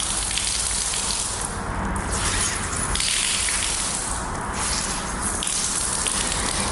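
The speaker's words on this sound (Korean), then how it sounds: "그래서 이 세무융을 물기를 이렇게 꽉 짭니다" Water streaming from a chamois car-drying towel as it is wrung out hard: a loud, close, continuous gushing splash that swells and eases in waves without pause.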